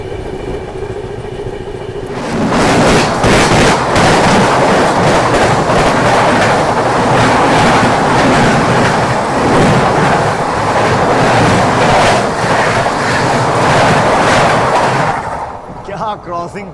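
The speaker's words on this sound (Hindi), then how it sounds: "फ्लैट 130 पूरा स्पार्किंग करते हुए गया लोकोमोटिव" The Tirupati–Jammu Tawi Humsafar Express thunders past a station at around 130 km/h. A loud, sustained roar of wheels on rail builds suddenly, holds with rhythmic clatter over the joints, then starts to fade.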